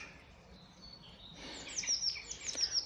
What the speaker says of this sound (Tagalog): Wow, ang mga ibon.